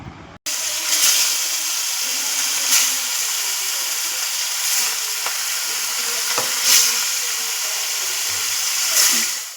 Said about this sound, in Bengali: এরপর আমি মাছগুলো দিয়ে দেব।